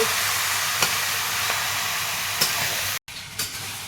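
Chicken pieces with spices are sautéed in a pan, giving a steady, soft sizzle with a few light stirring clicks and a brief dropout near the end.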